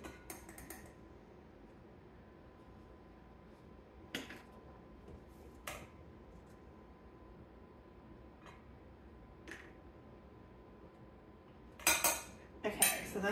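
A quarter-cup metal measuring cup scooping all-purpose flour in a quiet kitchen, with a few faint clinks spaced several seconds apart and a louder cluster of clatter near the end.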